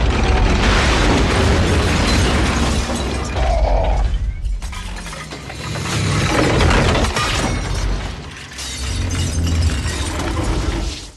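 Film sound effects of the Icon satellite crashing down in a space action sequence: loud, dense shattering crashes and booming impacts, a brief drop in intensity near the middle, then renewed heavy rumbling and debris.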